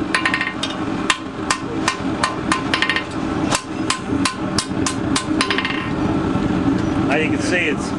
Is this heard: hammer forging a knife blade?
yes